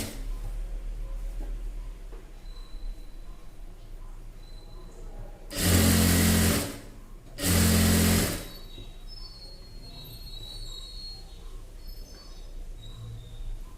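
A sewing machine stitches the waist seam of a chudi pant in two short, loud whirring bursts about a second and a half each, separated by a brief pause, with quiet room tone around them.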